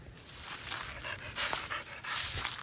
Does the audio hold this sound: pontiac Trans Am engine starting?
no